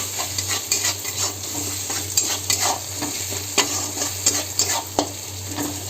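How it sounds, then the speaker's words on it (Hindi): A spoon stirring in a kadhai with turmeric and salt while semolina upma is being made, scraping repeatedly against the pan over a soft, continuous frying sizzle, close by with no voices. "अब चम्मच चला लेबो"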